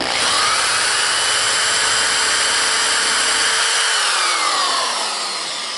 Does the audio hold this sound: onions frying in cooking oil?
no